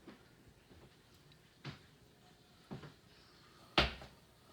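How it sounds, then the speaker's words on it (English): A door in a quiet room is pushed shut, ending in one firm, close thump after a few softer knocks and rustles. "Can you come close my door so these dogs leave me the hell alone?"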